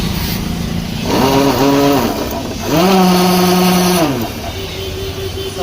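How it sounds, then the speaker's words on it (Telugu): A TVS Raider BS6 motorcycle, which has no self-start motor or one-way clutch, is started on its self-start: two loud, close bursts of whirring, rising engine sound, each lasting about a second, over a steady idle. "ఇక్కడ సెల్ఫ్ కొట్టినప్పుడు సౌండ్ అయితే వినండి"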